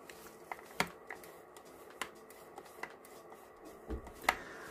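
A camera lens with a zoom that sticks, giving a few small, sharp clicks and ticks spaced irregularly over a quiet background, close and faint.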